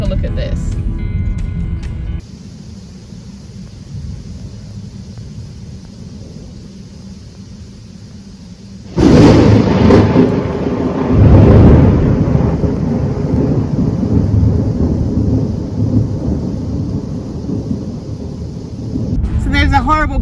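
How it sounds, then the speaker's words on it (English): A thunder and lightning storm: a loud broadband crack of thunder bursts out midway and rolls on as a heavy rumble with a second swell, over a constant windy, gusty background at close range. "We had a thunder and lightning storm the other night"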